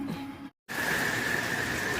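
Steady rain on a Florida afternoon, a dense, even hiss of falling drops that breaks off briefly into silence and then resumes just as loud.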